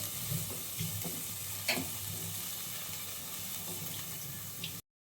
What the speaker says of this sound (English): I'll just saute the veggies.